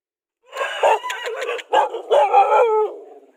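A dog on a rural farm plot barks and howls up close in a quick run of yips and drawn-out cries, heard alone.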